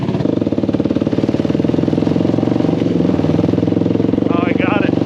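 A Honda TRX 450 ATV idling after a start on a fresh battery: a steady, rough, pulsing single-cylinder rumble, loud and close, with brief voices near the end.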